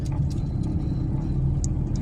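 A car pulls away slowly during a driving lesson, heard from inside as a steady low engine hum and road rumble with a few faint clicks, no talk.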